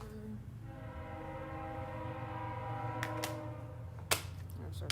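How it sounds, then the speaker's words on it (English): A train rumbles past steadily, with a sustained horn tone throughout and a few sharp metallic clanks toward the end. "There's our friend the train."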